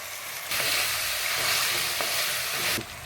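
Tomatoes hit hot oil in a pan for mutton biryani, setting off a sudden loud, steady sizzle that runs nearly three seconds before easing off.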